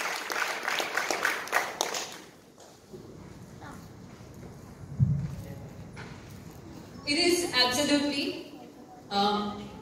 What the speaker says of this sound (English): can we please have a round of applause for Mr. M. Safir